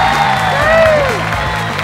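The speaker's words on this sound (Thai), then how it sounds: "ขอเสียงปรบมือดังๆเลย" Audience applause at an innovation awards show held at Bangkok University, broad clapping with a few whoops, loud and steady for about two seconds, with a voice and music tones running over it.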